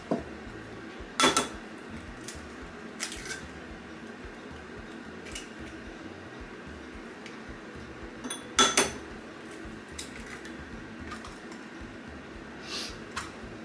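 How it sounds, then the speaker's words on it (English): Two eggs cracked against the inside of a mixing bowl while cooking fish: a few short, crisp taps and cracks spaced across a quiet kitchen, with faint clinks of bowl and utensils between them. "So I crack them in the inside of the bowl, not on the edge."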